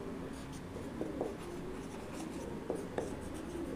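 Marker or chalk scratching on a board during a lesson, steady faint scraping with a few sharper taps, quiet room tone throughout and no talk.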